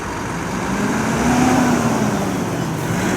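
A heavy truck engine rumbles past on a road at a truck show departure, a low steady drone that swells slightly midway, set against broad traffic noise.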